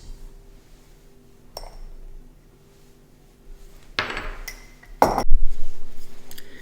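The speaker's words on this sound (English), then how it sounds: "all you do is give that a mix to combine the ingredients" Pizza dough ingredients with dried yeast are stirred in a bowl, giving a few scattered clinks and knocks of utensil against the bowl, close and fairly quiet, separated by pauses.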